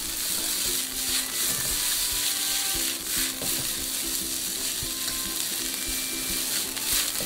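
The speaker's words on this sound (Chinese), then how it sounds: "锅烧热加上猪油放上莴笋丝用大火翻炒" Shredded celtuce stir-fried in lard in a hot wok over high heat, giving a steady, close sizzle and crackle with faint scraping of stirring throughout and no voices.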